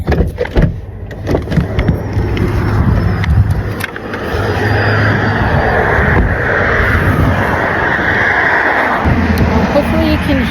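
Loud road traffic passes close by outdoors, a steady roar of passing vehicles with wind buffeting the microphone, continuous across the whole stretch and loudest near the start.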